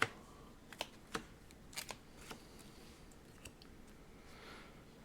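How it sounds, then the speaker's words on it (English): Three cards drawn by hand from a deck in a tabletop game of Ashes Reborn, heard as a few quiet, separate papery snaps and slides spaced over several seconds against a faint background. "Go ahead and grab 3 more cards."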